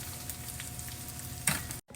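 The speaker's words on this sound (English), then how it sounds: "Just get everything sizzling." Chicken frying in hot oil at medium-high heat, a steady close sizzle with a brief louder burst of crackle near the end before it cuts out.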